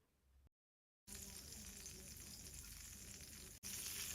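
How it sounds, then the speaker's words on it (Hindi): Crushed garlic sizzles steadily in melted butter in a pan. After a short silent gap it turns into a loud, continuous close-up frying hiss with no talking. "कुछ सेकंड्स के लिए लहसुन को अच्छी तरह से इसमें हमने फ्राई कर लेना है"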